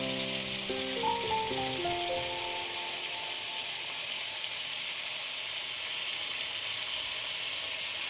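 Small pieces of chicken sizzle in a wok while chowmein is being made, with a steady close frying hiss and a few faint high tonal notes at the start. No one speaks.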